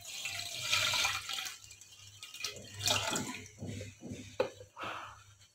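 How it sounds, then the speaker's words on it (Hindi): Water pours and splashes in uneven bursts, gurgling into a pot close by for semolina halwa, with short pauses between pours and a faint background hum. "मैं 2 बॉल पानी के डालूँगी"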